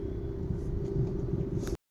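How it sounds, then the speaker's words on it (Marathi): Engine of an old car converted to run on CNG idles with a steady, low rumble heard close up, cutting off abruptly at the end. "ह्याचा इंजिनचा आवाज वेगळाच येतो"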